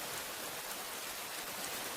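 Rain falling outside a hut at night, a dense, even, unbroken hiss with no pauses and no voices.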